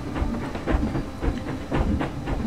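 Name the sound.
roller coaster train running, from video game Planet Coaster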